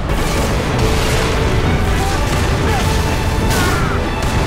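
A fuel rod gun fires in a video game, sending out loud booming bursts over dense, continuous game noise, with a sharper blast near the end.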